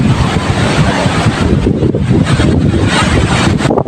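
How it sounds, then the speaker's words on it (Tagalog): Strong, steady wind roars and buffets the microphone with low rumbling gusts throughout, loud and unbroken, with no voices, outdoors near a large acacia tree. "Sobrang mahangin ngayon guys."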